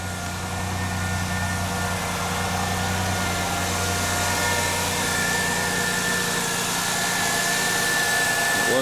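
A Ford Ranger engine idles while warming up, a steady close mechanical hum with a constant low drone and faint vibration throughout, no voices.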